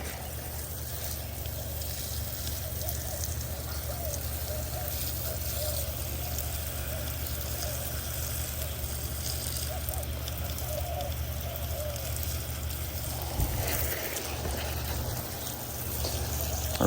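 A garden hose runs steadily, a faint, even rushing spray of water that continues unbroken, with a brief disturbance near the end.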